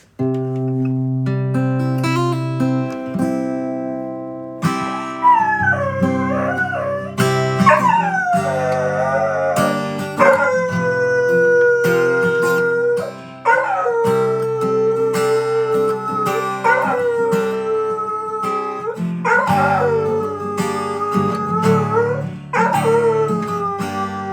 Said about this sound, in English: the minute I start playing this, all we're going to hear is Champ singing